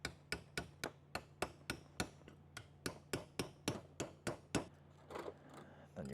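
A small part tapped onto an LS engine valve during a valve spring install, struck in a steady run of about twenty sharp, close metallic taps, with the tone shifting near the end.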